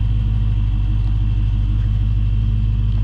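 A 2022 Dodge Charger drives with a constant, loud low engine and road rumble heard from inside the car, steady throughout with no voices.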